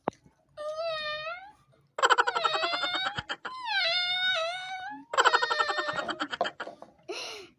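A person imitates a cat with drawn-out, wavering meows and whiny moans, repeated several times up close, with giggly breathy bursts between.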